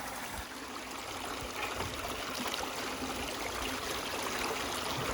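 Water rushing continuously over a gold sluice as it washes clay and material through, a steady close splashing, trickling flow at even volume throughout.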